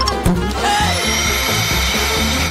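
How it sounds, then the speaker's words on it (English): A vacuum cleaner sucks up worms, its motor droning loud and close with a steady whine and rough low rumble throughout. "This vacuum will eat all the worms fast."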